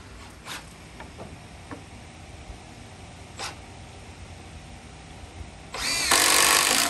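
Power drill driving screws to fasten boards up against a fascia board on a post and beam carport build, with faint clicks and taps before a loud, close burst of drill whine near the end.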